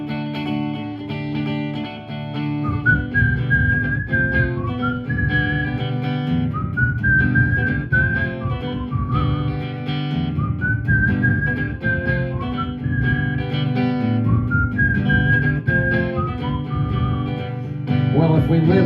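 A whistled melody rises and falls in repeated phrases over a full live band backing with bass and drums, steady and fairly loud throughout, at a concert venue in Birkenhead.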